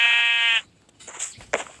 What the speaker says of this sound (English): Why is there sheep in my house?